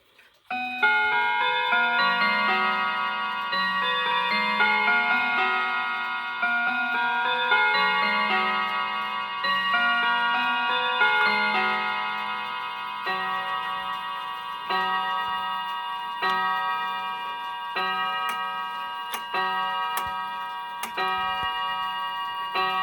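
An old balance wheel escapement clock with worn, damaged pivots plays a long, loud, ringing melodic chime, sustained tonal notes struck in steady succession, with faint irregular ticking beneath and no voices.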